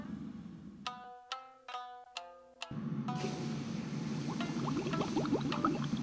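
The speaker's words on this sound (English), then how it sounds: "The incredible transformation that comes over a blade that goes into the water straight and comes out curved." A hot blade plunges into water with a loud hiss: a few sharp metallic clinks first, then a sustained sizzling, bubbling roar that fills the rest of the time.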